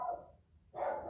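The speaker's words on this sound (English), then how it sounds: "that's my dog, and that will just always happen through every video." Dog barking indoors, two short bursts separated by a brief quiet gap, moderately close and fairly faint, with no talking over it.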